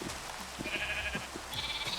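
Sheep bleat in the video game Minecraft, a couple of nasal bleats standing out over a steady background of game ambience, fairly close and loud.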